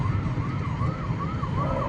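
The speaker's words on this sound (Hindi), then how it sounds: "भाई किधर है ये एम्बुलेंस?" An ambulance siren wails steadily on a Delhi road near Pragati Maidan, its rising and falling tone continuous over heavy low traffic rumble, sounding somewhat distant and behind.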